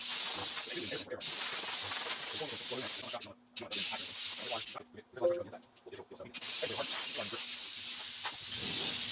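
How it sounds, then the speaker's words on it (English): Hot steel being air quenched gives a steady, loud hiss that breaks off and returns several times, with a voice speaking over parts of it. "Air quenching steel"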